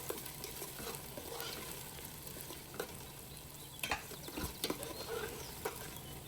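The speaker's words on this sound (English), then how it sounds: "Sauté these for a minute." Star anise, a bay leaf, a cinnamon stick and mace fry in a pot for beef yakhni pulao, giving a low continuous sizzle with occasional clicks and scrapes from stirring.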